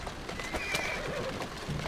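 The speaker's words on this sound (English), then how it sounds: "Who's a good horse? You are." Horse in the video game Assassin's Creed Syndicate gives a clear, close whinny over a steady background bed, with a clip-clop of hooves woven through the short stretch.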